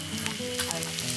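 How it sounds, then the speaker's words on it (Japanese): Soy sauce sizzles steadily in a hot pan over high heat, scorching slightly at a campsite, with a continuous close, even frying hiss and no talking. "醤油はちょっと強火にして焦がし醤油かんな感じで香りを"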